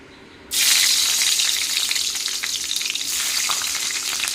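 Fresh green chillies dropped into hot oil for a stalk-and-leaf greens dish, an abrupt loud sizzle bursting in after a quiet moment and then crackling steadily, close up and with no talking.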